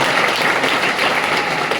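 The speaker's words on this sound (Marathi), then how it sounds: "टाळ्या वाजवून त्यांच्या सरांना." A short, dense burst of audience applause at a lecture series event, steady and close, with no talk over it.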